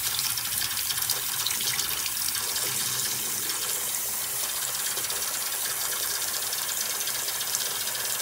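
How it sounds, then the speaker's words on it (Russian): Water runs strongly from a bathroom tap into a sink, a steady broad hiss with a gurgling undertone lasting throughout, close and without talk. "Включай воду, посмотрим,"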